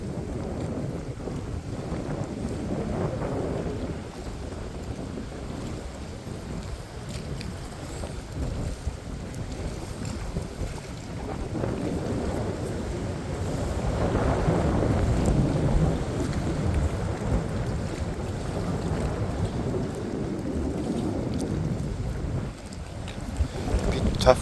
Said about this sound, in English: the wind is just going to block me